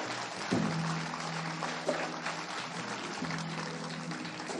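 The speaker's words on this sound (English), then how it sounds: "nice round of applause for the group, ladies and gentlemen." A live television studio audience at a 1972 Soul! soul music show applauds for a group, a steady wash of clapping with a low musical hum underneath.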